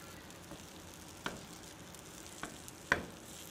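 Keto chaffle batter cooking in a heated waffle iron, a faint steady sizzle with a few soft clicks and taps near the end.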